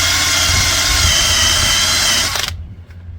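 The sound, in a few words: eraser wheel on a power drill removing old pinstripes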